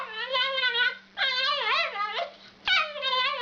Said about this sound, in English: Can any of you tell me what the fuck is wrong with this little dog?